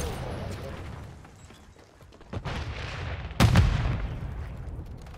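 The new conversion gun in Call of Duty: Modern Warfare 3 fires two heavy, booming shots a second apart, the second louder, over low background rumble with some talk around them.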